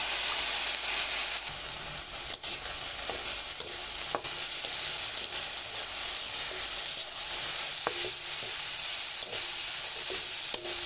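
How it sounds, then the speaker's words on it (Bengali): Chicken momo filling with garlic, green chilli, pepper and soy sauce sizzles steadily in a frying pan while a utensil stirs it, leaving a bright hiss with soft scraping clicks throughout and no speech. "আবারও ভালো একটু দুই মিনিটের মতো নেড়ে চেড়ে নিয়েছি"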